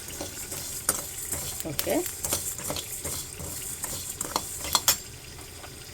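Fish pieces cooking in a pot of fish curry: a close, steady bubbling simmer with clinks and scrapes of stirring, and a brief voice now and then.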